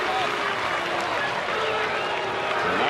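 A baseball stadium crowd cheering steadily with a dense, continuous roar and scattered clapping, while a commentator talks over it.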